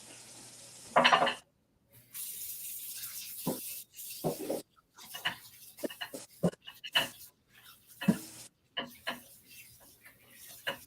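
Peaches being set into a bowl of cool water for canning peach salsa, heard as intermittent splashes, clinks and sloshing bursts, fairly close, with short silent gaps between the handling noises.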